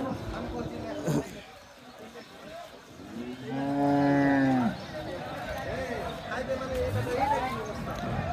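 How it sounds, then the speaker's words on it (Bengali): A white cow moos loudly once at a cattle market, a long harmonic call standing out amid the crowd's chatter and background noise. "একবার সাদা ধবধবে গরু"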